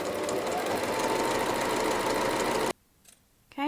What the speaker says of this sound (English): Okay, so let's go ahead and sew.